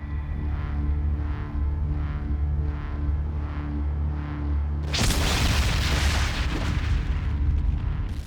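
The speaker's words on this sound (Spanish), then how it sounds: "la onda expansiva en el aire." An explosion's shock wave roars through the air. A low, steady rumble gives way halfway through to a sudden loud, broadband blast that keeps roaring for several seconds.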